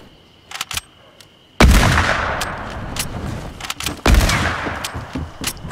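Gunfire in Fortnite, two loud close blasts that each decay into a long rolling echo, with faint quick clicks before and between them.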